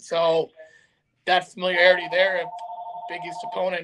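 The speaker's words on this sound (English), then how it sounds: "apologize for the phone in the background." A telephone rings in the background with a sustained electronic tone partway through, under a man's close, steady talk.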